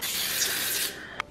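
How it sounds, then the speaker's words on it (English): Cooking spray hisses steadily onto a metal jelly roll pan, slightly larger than a 9x13, in a short continuous burst that cuts off, followed by a single faint click. "So I'm just gonna spray it and add some parchment paper"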